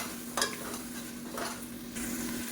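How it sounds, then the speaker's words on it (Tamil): Chopped tomatoes sauté in hot oil for mutton biryani, a continuous close sizzle with a few soft stirring scrapes and no speech. "தக்காளியை நல்லா வதக்கி விட்டுக்கலாம்."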